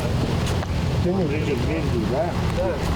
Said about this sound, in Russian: рокот катеров, рассекающих воду Терека